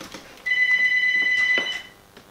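An electric bike's built-in phone rings with a single steady electronic tone lasting about a second, moderately loud over faint background noise.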